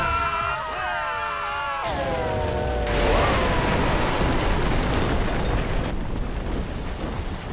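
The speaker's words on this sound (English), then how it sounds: "Tracking multiple consecutive explosions." Explosions in the video game ScreamRide: a few tonal game sounds give way to a loud, dense burst of blasts and rumbling debris that roars on for several seconds.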